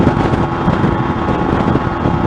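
Motorcycle engine held at high revs, about 10,000 rpm while cruising just over 60 mph, buried in a steady, dense roar of wind rush that runs unbroken and loud throughout.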